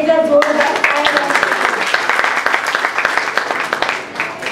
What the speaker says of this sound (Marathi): त्यांनी त्याच्यासाठी एकदा जोरदार टाळ्या.